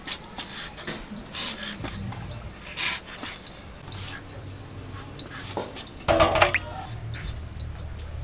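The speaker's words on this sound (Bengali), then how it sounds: "বিট কেটে নেব" Beetroot is cut with a knife in a kitchen, giving scattered wet chopping and scraping sounds with a louder clatter of utensils near the end.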